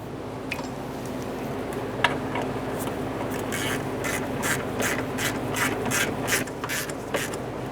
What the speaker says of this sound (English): start in our 10mm mounting bolt and snug it up